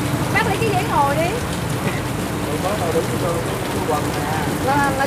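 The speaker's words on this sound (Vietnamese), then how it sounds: "Mưa to ghê." Steady rain pours down in a dense, continuous hiss, with voices talking faintly underneath at times.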